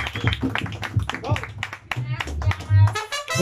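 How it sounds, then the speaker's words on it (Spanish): Clapping at a birthday mariachi show, irregular hand claps mixed with a voice speaking and singing over music, the claps moderately loud and close. "El aplauso para Sandra,"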